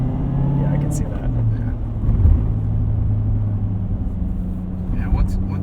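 A 2019 Chevrolet Corvette Z06 with a seven-speed manual, driven at night, gives a low steady exhaust and supercharger drone from inside the cabin while people talk over it.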